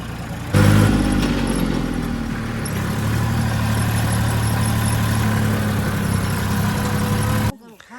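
A tractor engine runs steadily at night on a rural drive home, a continuous loud low drone with a harmonic whine, voices talking over it, before it cuts off abruptly near the end.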